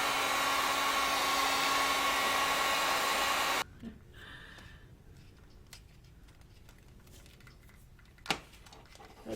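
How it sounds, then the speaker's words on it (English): A heat gun warms a lightsaber prop part for bending: a loud, steady blowing whine that cuts off abruptly after a few seconds, followed by quiet shop handling noises and a sharp knock. "now I have to heat up this part and bend it into shape"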